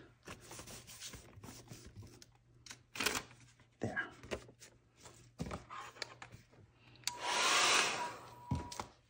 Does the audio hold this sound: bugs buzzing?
no